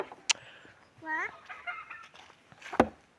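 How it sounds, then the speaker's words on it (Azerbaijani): Free-roaming farmyard chickens in Qabala, Azerbaijan, clucking nearby. A sharp click comes first, then a rising, harmonic cluck series mid-clip, with scattered softer clucks and a loud thump near the end over quiet rustling. "Buradan da toyuqlar gəlir yavaş-yavaş."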